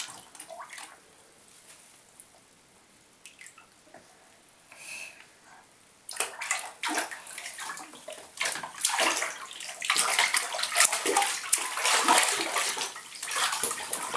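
A small child splashes and sloshes in a filling bathtub, quiet and sparse at first, then breaking into loud, rapid, close splashing for the second half of the clip.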